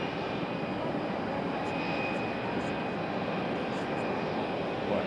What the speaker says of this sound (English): Our first Southwest arrival of the show